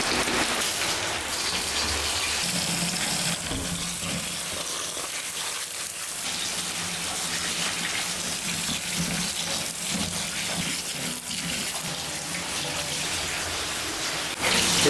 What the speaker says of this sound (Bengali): স্টিল বৃষ্টি হয়ে যাচ্ছে, বৃষ্টি থামার কোনো নামই নেই।